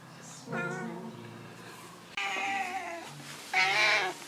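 A cat meows three times in short, close, insistent calls, the second and third louder and more strained, with quiet room noise between.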